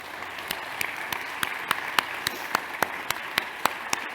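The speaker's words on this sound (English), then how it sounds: "Could we please have a round of applause for these incredible children?" Applause at a church youth Sunday for the children, with one nearby clapper's sharp, evenly spaced claps standing out in a steady rhythm above a softer spread of clapping.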